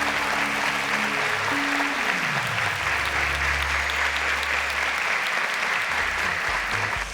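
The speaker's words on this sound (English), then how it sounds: "A round of applause to Charles, ladies and gentlemen." Dense, steady applause from a studio audience at a televised quiz show, filling all seven seconds at an even level with no letup and no voices rising above it.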